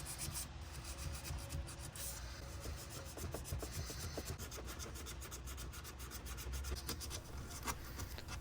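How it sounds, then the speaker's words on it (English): Sandpaper rubs by hand over a router-carved wooden Christmas decoration, including folded pieces worked into corners and nooks, giving a steady close rasping scrape that continues throughout. "I'm just folding up small pieces of sandpaper and getting into the corners and nooks."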